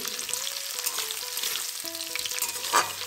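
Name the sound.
garlic, ginger and green chilli frying in oil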